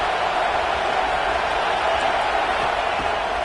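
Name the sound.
football stadium crowd roaring on third down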